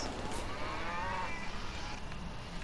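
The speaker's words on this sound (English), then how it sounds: "I heard a cow." A single drawn-out cow moo from the video game GTA V Online, fairly clear over a steady background of game noise, with no talking.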